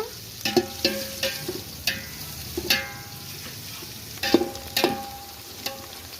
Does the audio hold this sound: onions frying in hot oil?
yes